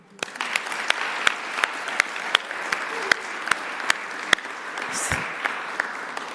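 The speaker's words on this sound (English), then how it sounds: "Please give yourselves an epic round of applause for your neighbors who got awards" An awards ceremony audience breaks into applause, a steady patter of clapping from many hands with sharper individual claps standing out, fairly close and continuous.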